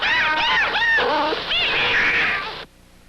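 A cat meows repeatedly and loudly up close, a run of drawn-out, wavering cries that end abruptly, leaving near silence.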